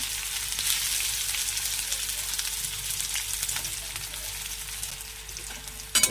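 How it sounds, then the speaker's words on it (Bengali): Dried red chillies and freshly chopped onion fry in hot oil in a pan while a banana-stem dish is cooked. The sizzle is close and steady, and a short clatter of utensils comes right at the end. "শুকনো লঙ্কাটা ভাজা ভাজা হয়ে গেছে এবার পেঁয়াজ কেটে দিয়ে দিলাম"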